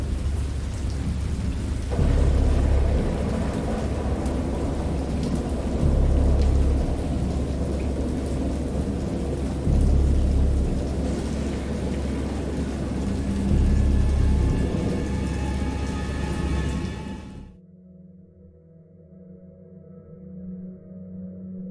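A thunderstorm in the video game Dagon: steady heavy rain hisses while deep thunder rolls and rumbles repeatedly, then the storm cuts off abruptly into a quieter low drone.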